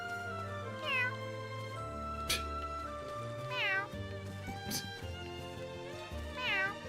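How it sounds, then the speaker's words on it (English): A cat voiced in The Adventures of Elliot: The Millennium Tales video game gives three drawn-out meows spaced a couple of seconds apart over soft game music, moderately loud and close. "the voice acting on that cat was great, though"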